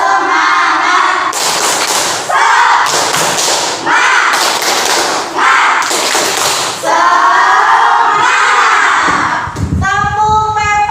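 Schoolchildren in a classroom perform the tepuk semangat cheer, loud bursts of rhythmic group clapping alternating with chanted voices in repeated blocks, close and energetic.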